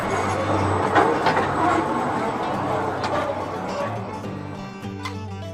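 Tourist train on a tourist-attraction railway in Australia, running continuously with a steady low rumble and rhythmic engine hum throughout, close and fairly loud, with no speech.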